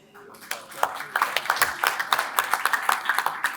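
An audience at an Italian Heritage Month celebration applauds, with scattered hand claps building into steady rhythmic clapping that grows denser, under a voice speaking.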